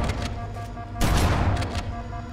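Explosions in the video game Halo, a dense crackle of blasts and gunfire with one louder booming burst midway, all loud and close under continuous combat noise.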